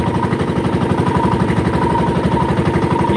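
A fishing boat engine idles on the water, making a steady rhythmic low chugging pulse that stays even and fairly loud throughout, with no talking.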